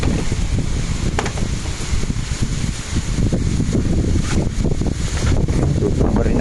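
Strong gusty wind during Typhoon Uwan roars steadily across the microphone as a dense, continuous low rumble that surges and eases without pause, with no other clear sound above it.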